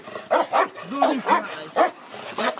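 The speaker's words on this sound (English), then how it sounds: "Police dog Kaiser isn't his #1 fan either" Police dog barking in a run of loud, close barks and yips with short gaps between them, plus some whimpering.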